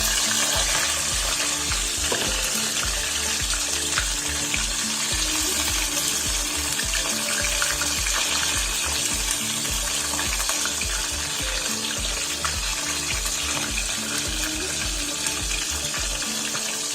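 Cod fish pieces for Greek bakaliaros fry in hot oil with a dense, continuous crackling sizzle that stays loud and close throughout, with no talking.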